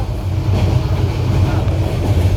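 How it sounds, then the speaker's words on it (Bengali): A large passenger train in Bangladesh rumbling past, a loud continuous low roar of rolling wagons with faint rhythmic clatter, close and steady without speech. "বাংলাদেশের বড় ট্রেনটা স্টেশন থেকে অনেক বড়, একবারে 80 গুণ 100 গুণ বড়।"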